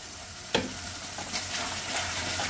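Green peas tipped into masala frying in oil in a kadhai, a sharp splash then a steady close sizzle with light stirring scrapes.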